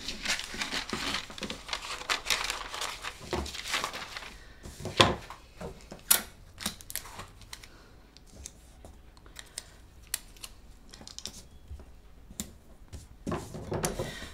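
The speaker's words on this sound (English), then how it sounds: "let me cut away some of this excess, since we really don't need all this" Scissors snip and paper crinkles as excess paper is trimmed from a darted lace balconette bra cup pattern, a series of close, sharp cuts and rustles with quiet pauses between.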